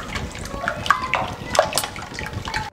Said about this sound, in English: In this coat, I can also add some milk